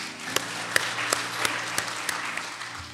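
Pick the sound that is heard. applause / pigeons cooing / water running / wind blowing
applause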